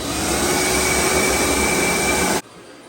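A vacuum unit runs during repair of a leaking, non-working Whirlpool fridge, a loud, steady roaring drone held close for over two seconds before cutting off abruptly into near silence.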